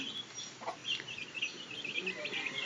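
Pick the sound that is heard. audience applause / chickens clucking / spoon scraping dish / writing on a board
chickens clucking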